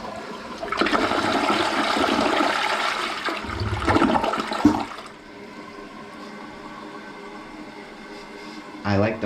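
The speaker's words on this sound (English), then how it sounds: "I'm gonna give you another flush" A Kohler Kingston toilet performs a long flush with the handle held down, giving a loud rushing swirl of water that drains away into a quieter tank refill hiss, with a brief clunk near the end.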